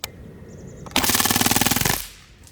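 An Umarex Strike Force .177 BB rifle with blowback fires on full auto: a rapid burst of about a second of evenly spaced, loud, close shots emptying the magazine, with mechanical clicks before it and no speech.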